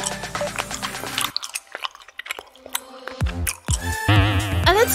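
Loud, wet chewing of apple-flavoured gum close up, smacking and crunching bites in bursts, with music playing underneath.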